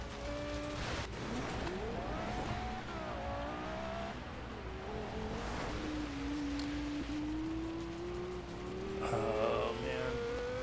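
A damaged car in a racing video game, engine droning and rising in pitch as it accelerates, with shifting whines and a brief burst of noise near the end, continuous and close.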